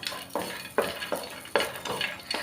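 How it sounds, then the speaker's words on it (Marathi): Finely chopped dry coconut roasting in a pan on a medium flame, stirred in about six rhythmic scraping strokes over a light sizzle, close and clear. "ते आपण घालूया आणि एक दोन मिनटं मीडियम शेगडीवर आपण हे भाजून घेऊया"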